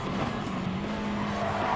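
A race car brakes hard at Monza in a racing video game, loud continuous engine drone and tire scrub close up, steady through the whole moment.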